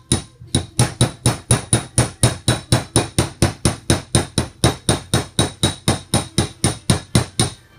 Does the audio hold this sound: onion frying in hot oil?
no